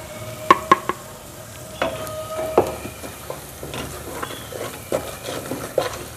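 Garlic-ginger paste with powdered spices being stirred and fried in a pan over low heat for aloo badiyan salan, with soft sizzling under sharp scrapes and clinks of a spoon against the pan.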